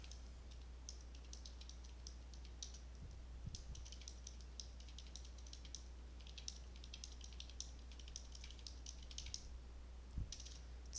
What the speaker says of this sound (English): typing in all these numbers